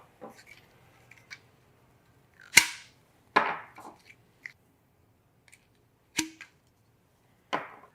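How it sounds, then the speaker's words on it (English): Peak Design Travel Tripod feet released one by one, giving sharp plastic clicks and snaps as each button is pressed and the foot pulled out, spaced irregularly with faint handling noise between them. "Press in on the button on each foot and pull it out."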